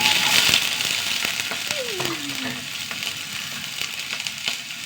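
Mustard seeds, green chillies and onion frying in a pan as a tempering for cooked green gram, giving a steady loud sizzle with faint crackles and a brief gliding tone partway through.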